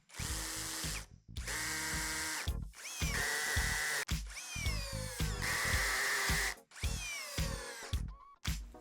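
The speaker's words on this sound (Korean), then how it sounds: "먼저 해머드릴 드라이버부터 테스트를 진행해 볼 건데요" A cordless 14.4V hammer drill driver in driver mode sinks short hex screws at rising torque settings. It makes a series of loud, close motor whirs, each a second or so long, split by brief silent pauses.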